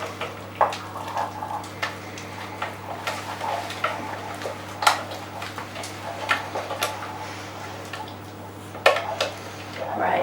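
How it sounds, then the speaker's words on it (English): A spoon beats the last of the egg into choux pastry dough for profiteroles, giving irregular knocks and scrapes against the bowl over a steady low hum, with no talking. "So now beat that last bit of egg in."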